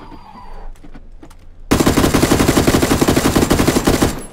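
Rapid automatic gunfire from the PUBG battle-royale shooter rips out in a loud, sustained burst of fast repeating shots aimed at an enemy's vest, starting abruptly after a quieter stretch.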